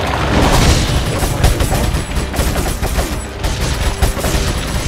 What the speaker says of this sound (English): So, we get to use the machine gun